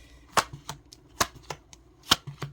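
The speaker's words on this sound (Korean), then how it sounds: "카드를 펼쳐보도록 할게요." Tarot cards spread out on a table, a handful of crisp separate slaps and flicks, close and fairly loud, with quiet gaps between them.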